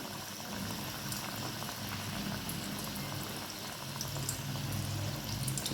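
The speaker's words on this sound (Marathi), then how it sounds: "पाहू शकता अशा प्रकारे आणि तळून घेऊया. एक एक तेलामध्ये सोडायचं आहे." Besan-coated vada pav potato vadas frying in hot oil, a continuous, fairly soft bubbling and crackling fizz held at an even level without any talking.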